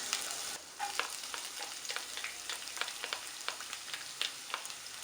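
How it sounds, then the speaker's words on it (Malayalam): Ginger and garlic fry in hot oil in a pan, giving a steady close sizzle broken by frequent sharp crackles and pops, with no talking. "ഓയിൽ ഇപ്പോൾ ചൂടായി കഴിഞ്ഞാൽ അതിലേക്ക് നമുക്ക് ഇഞ്ചി വെളുത്തുള്ളി ഇട്ട് കൊടുക്കാം"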